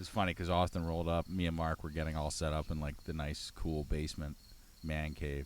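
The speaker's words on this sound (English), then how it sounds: "if you hear in the background, crickets yelping all over" Crickets chirp continuously outdoors in the background while someone talks close to the microphone, with his speech dominating throughout.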